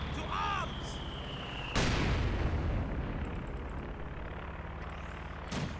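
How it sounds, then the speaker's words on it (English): Two mortars firing an artillery barrage in Company of Heroes 2, heavy booming impacts at the start and near the end over a constant rumbling battle din, with a voice speaking faintly beneath. "NoiseofCarpet now with 2 mortars firing away, so a bit more of an artillery barrage going down there"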